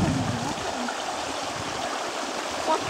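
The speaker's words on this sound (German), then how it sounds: "Da kommst du bis ein Bach runter." A brook flows down through forest on a Black Forest nature trail near Furtwangen, a steady, close rushing and gurgling of water running alone across the whole stretch.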